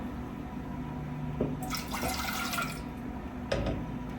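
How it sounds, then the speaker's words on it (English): Water splashes and pours into a pot on a kitchen stovetop over melted butter, a short gushing stream followed by a brief second splash under a steady background hum. "Then add water and bring to a boil."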